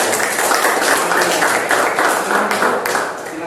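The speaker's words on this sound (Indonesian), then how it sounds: "Ayo tepuk tangan semua." A classroom of children claps together on the teacher's cue, a dense, steady round of applause that fills the room and tapers off slightly at the end.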